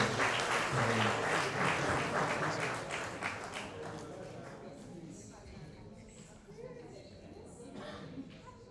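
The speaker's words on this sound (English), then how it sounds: "A round of applause for" A crowd at a university guild leaders' swearing-in ceremony applauds in a dense burst that tapers off into scattered claps, with faint voices in the background.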